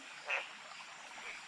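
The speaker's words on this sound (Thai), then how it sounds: "เสียงกบก็ร้อง" A single short frog croak at night beside a stream in deep forest, fairly faint over a quiet, airy background.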